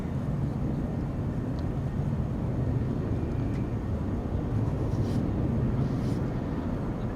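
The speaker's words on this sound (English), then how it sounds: "this is Delta Airlines Flight 133 to Detroit" Delta Airlines airliner on flight 133 to Detroit at Amsterdam Schiphol, a low, fairly faint and steady jet rumble with no speech.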